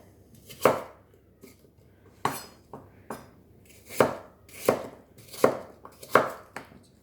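A knife dices apples on a chopping board in a run of about nine firm, separate chops, each a crisp close thud, spaced unevenly at roughly half-second to one-second gaps with no talk.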